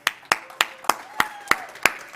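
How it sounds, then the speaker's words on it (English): A single person claps in a slow, even rhythm for a speaker at the Cosmoverse crypto conference; eight crisp, close claps spaced about a third of a second apart, with a faint tone sweeping underneath. "One more round of applause for Dan"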